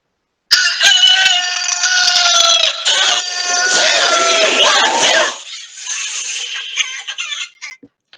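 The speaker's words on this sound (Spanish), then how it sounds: "qué mal con esos gallos." Roosters crow outside over several seconds, loud and close, with harsh, drawn-out overlapping calls that rise, hold and break off, then fade into fainter clucks and scattered calls.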